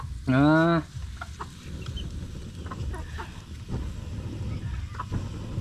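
A single loud, harmonic Rhode Island chicken call rings out near the start, followed by quiet outdoor farmyard ambience with a few faint chirps and clucks.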